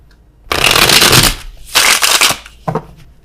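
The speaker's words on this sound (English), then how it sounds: "give me clarifiers for the Tower" Tarot cards being shuffled during a reading, three loud riffling bursts in close succession, the first and longest followed by two shorter ones, with no speech over them.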